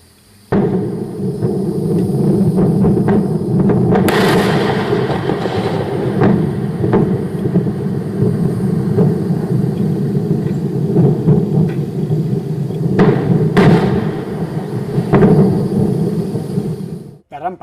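SpaceX Falcon 9 booster B1028, carrying the Amos 6 satellite, explodes during a static fire test at launch pad SLC-40, sending out a long, heavy roaring rumble broken by sharp cracks and bangs, with no talk.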